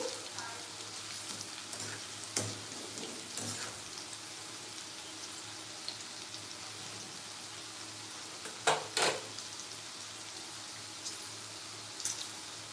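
Okra sizzles gently in a pan, a soft continuous crackle broken by a few sharper pops and clinks, with no talking.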